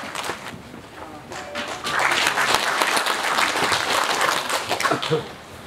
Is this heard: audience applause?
yes